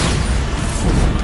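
A Bombarda blast spell in the game Hogwarts Legacy delivers a loud, dense burst of booming low rumble and crackling debris that fills the whole brief moment without a break.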